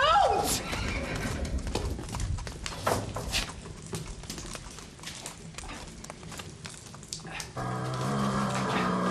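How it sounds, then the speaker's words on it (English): Several horses neigh and whinny close by amid hoof clatter and commotion, with a dog barking and people shouting over it. "Try and calm those horses down"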